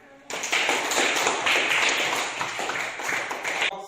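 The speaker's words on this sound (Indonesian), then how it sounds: "Oke, berikan tepuk tangan." A school class applauding a group presentation in a physical education lesson, a sudden burst of many hands clapping, dense and close, sustained for a few seconds before cutting off.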